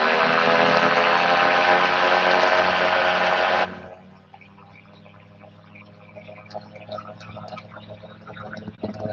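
Microlight aircraft engine roaring loud and close at full throttle, then cutting abruptly to a much quieter low hum with faint background noise for the rest.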